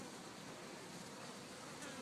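A swarm of honeybees protecting their queen hums in a dense, continuous buzz, steady and fairly faint, with no voices over it.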